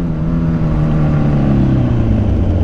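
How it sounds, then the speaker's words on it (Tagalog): Road traffic on a potholed street in Caloocan, a steady, close engine drone of vehicles with a slight pitch drift, heard on its own without speech. "Ayan na po ang traffic."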